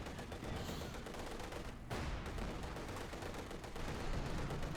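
Rapid gunfire from anti-tank rifles in Company of Heroes 2, a World War II strategy game battle, forming a dense, continuous crackle of shots and impacts over a busy combat soundscape.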